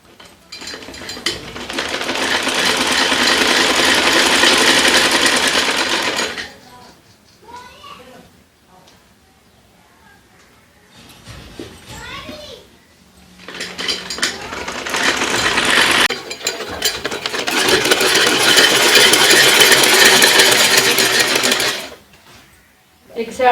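Sewing machine stitching the seat seam of a child's village-style shorts, running in long steady bursts with short pauses between them; a voice speaks faintly during the quiet gaps.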